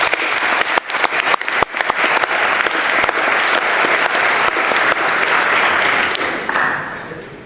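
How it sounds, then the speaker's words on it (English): Loud, dense audience applause welcoming a staff member from a bilingual education and foreign language office at a legislative mock assembly in Albany, steady clapping throughout with a few sharper claps standing out. "Let's give him a hand of applause"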